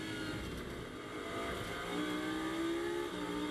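Lamborghini Super Trofeo race cars at Paul Ricard roar steadily through a turn as the field passes, a dense, continuous engine drone with one rising, sustained pitch near the end.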